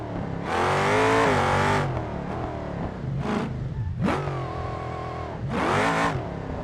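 A supercharged race car engine in BeamNG revs in several sharp, loud bursts with quick rises and drops and brief pauses between, up close and without talk.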